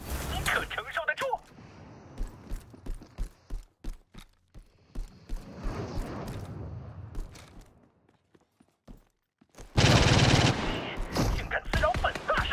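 Video game gunfire rattles in rapid single shots and short bursts through the middle, then a louder, denser blast follows near the end, with game voices heard around the shooting.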